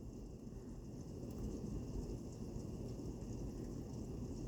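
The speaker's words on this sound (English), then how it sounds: "Looks like a bit of a hurricane out there with all that hard, heavy rain." Hard, heavy rain pours during a windy thunderstorm, a dense, steady low rumble of downpour and gusts with faint distant thunder beneath, quiet overall and continuous without talk.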